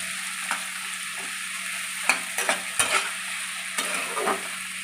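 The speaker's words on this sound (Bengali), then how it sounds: "লাল লাল করে ভেজে নেব" Tomatoes and onions frying in a pan until reddish brown, a steady close sizzle with several sharp stirring scrapes and clacks, no speech.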